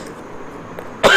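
A single close, sharp cough bursts out at the end after a brief stretch of quiet room tone.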